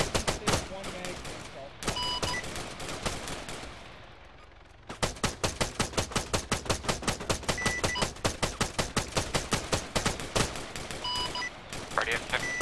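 Sustained automatic gunfire in ArmA 3 during a City Life RPG cop roleplay, long fast bursts of loud evenly spaced shots broken by a brief lull, then resuming steadily, with players talking over it.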